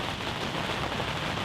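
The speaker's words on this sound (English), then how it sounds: "It's pouring down rain." Heavy rain hammers a hunting blind in gusty, storm-force wind during turkey season, making a steady, loud, close wash of pattering noise with no voices.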